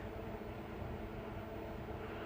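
Steady low rumble of a passenger train rolling through Shu station in Kazakhstan, heard from inside a carriage corridor, continuous and even, with no talk.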